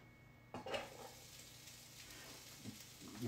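Chopped onion drops into heated oil and sizzles, opening with a sharp burst of frying, then settling into a faint steady crackle with a few light utensil clinks.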